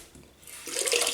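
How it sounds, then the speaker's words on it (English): Running water from a tap splashes as a razor is rinsed, quiet at first and then swelling into a steady, close hiss of flowing water with no talking. "rinse the razor"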